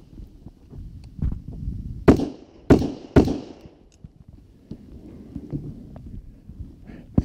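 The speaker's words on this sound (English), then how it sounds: "Let's try the rifle." Three rifle shots at a range, muffled by electronic ear protection, come through as dull, low thumps without a sharp crack. They fire at a steady pace in the middle of a stretch of soft handling noise.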